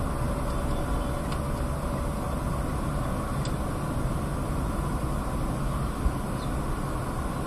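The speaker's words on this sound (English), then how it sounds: "This vehicle makes a lot of sound outside" A Mitsubishi Pajero Sport with an automatic gearbox cruises on the highway at about 100 km/h, its engine near 2000 rpm, giving a steady, loud broadband roar of road and wind noise with no breaks.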